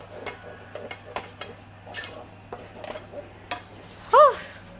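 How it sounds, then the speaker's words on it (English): Milk sauce is whisked in a high pan for a chicken Caesar lasagna, with quick irregular metallic scraping and tapping strokes and a brief louder squeak near the end. "So just a lot of whisking"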